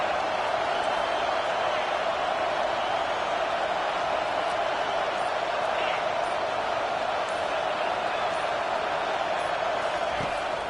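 Dense, steady roar of a large football stadium crowd at an Ole Miss versus Oklahoma game, cheering to pin the opposing offense deep in its own end, a loud continuous wash of noise throughout.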